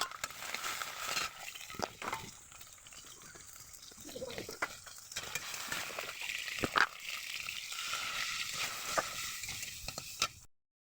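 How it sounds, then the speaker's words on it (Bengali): Potatoes frying in a pan for a snail curry, a soft sizzle with occasional stirring scrapes and clinks, fairly quiet and close. "আলুগুলো ভেজে নিচ্ছি।"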